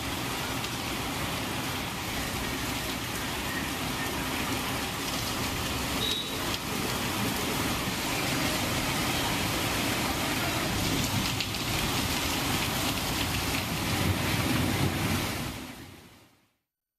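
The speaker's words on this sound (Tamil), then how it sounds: "விருதுநகர் மாவட்டம் ஸ்ரீவில்லிபுத்தூர் மற்றும் சுற்று வட்டாரங்களில் கனமழை பெய்தது." Heavy rain pours steadily in Srivilliputhur, Virudhunagar district, a dense, constant roar of water that holds evenly for about sixteen seconds before cutting off.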